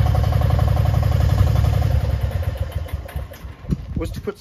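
Rhinoceros XN 08 digger engine with foam soundproofing in its compartment runs at a steady idle, a loud close clattering drone that roughens and dips toward the end.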